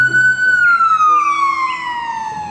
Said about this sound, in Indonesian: ini mobil ambulans